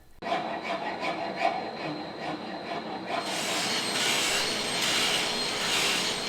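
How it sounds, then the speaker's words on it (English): A heavy cut rasp shapes a wooden chair leg, giving close, continuous scraping strokes that grow louder and coarser partway through. "Finish rough shaping the lower leg with a grinder and then with a heavy cut rasp."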